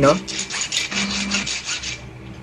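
A hand saw rasps through wood in quick back-and-forth strokes, about a dozen rhythmic rough scrapes, close and fairly loud.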